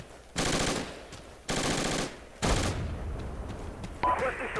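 A PKM machine gun in the Project Reality video game firing three loud, sustained automatic bursts with short gaps between them, followed by quieter background rumble and a faint voice.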